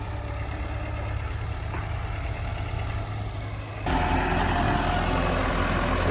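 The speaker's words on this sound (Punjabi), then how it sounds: "ਫਿਰ ਵੀ ਰੂਟਾਵੇਟਰ ਵਧੀਆ ਚੱਲ ਰਿਹਾ ਵੀਰੇ ਐਨ ਸੈਟ ਆ ਹੁਣ" A BCS mini rotavator's engine runs steadily in a field, a low droning hum at close range that grows louder and rougher about two-thirds of the way through, with no voices.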